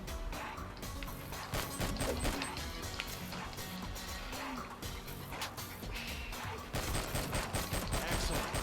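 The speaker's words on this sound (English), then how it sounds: "let's switch to the pistol so we can get some more shots off." Pistol gunfire in the action video game R.I.P.D. The Game, a dense run of sharp shots and crashing impacts that stays loud and continuous over a busy game soundscape.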